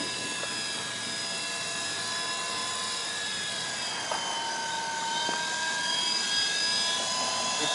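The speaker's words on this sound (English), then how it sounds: "I haven't flown a 4-channel heli in a while." A radio-controlled 4-channel helicopter hovers nearby with a steady high rotor and motor whine, its pitch wavering slightly as the throttle shifts, continuous throughout.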